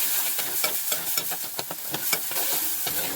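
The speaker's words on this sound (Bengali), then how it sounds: "এবার মশলাটা একটু কষিয়ে নিই" Chili powder masala sautéed in mustard oil for a fish curry, a constant hiss of frying under repeated scraping stirs of a spoon against the pan, close and fairly loud with no speech.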